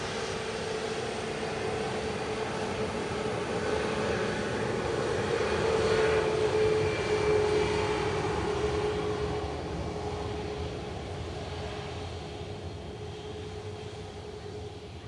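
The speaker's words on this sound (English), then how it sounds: "KLM from Amsterdam. E190." KLM Embraer E190 jet from Amsterdam at Dublin Airport: a moderate, distant engine rumble that swells gently midway with a brief tonal whine, then slowly fades, with no talking.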